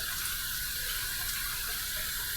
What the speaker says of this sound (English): we're going to go ahead and heat this up under some hot, hot, hot water